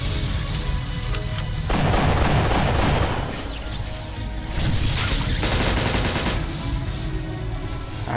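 Heavy, continuous gunfire in the battle game Ancient Warfare 3, with repeating guns and a grenade launcher in the mix, loud dense volleys swelling and easing in waves with no one speaking.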